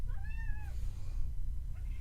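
A pet cat gives a single faint, rising meow indoors, heard from a short distance over a steady low background hum. Quiet follows the call.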